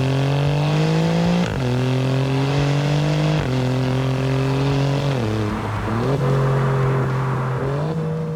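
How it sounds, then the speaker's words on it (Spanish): An Alfa Romeo Giulia Quadrifoglio with a titanium Akrapovic exhaust growls loudly up through the gears, each steady rising pull broken by a sharp shift, several upshifts in a row with a brief dip and lift near the end. "el de este Alfa Romeo Giulia Quadrifoglio con este escape a Krapovic de titanio"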